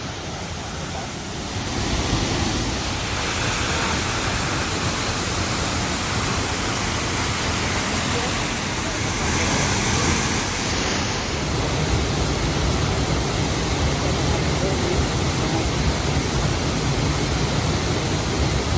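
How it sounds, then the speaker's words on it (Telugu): Glencar Waterfall in County Sligo, Ireland, a steady, loud roar of falling water that fills the whole scene without a break, with a slight swell partway through. "సూపర్, అసలు ఎంత మీదకి వెళ్ళి వస్తున్నాయో కానీ సూపర్ పడుతున్నాయి వాటర్ ఫాల్స్ అయితే."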